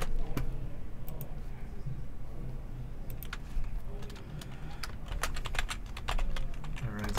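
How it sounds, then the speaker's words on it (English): Rapid papery clicks and riffles of cards being shuffled, in several bursts over a low steady background hum, close and moderately quiet. "these guys are getting shuffled up anyway"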